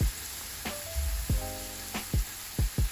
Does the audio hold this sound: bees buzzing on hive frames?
no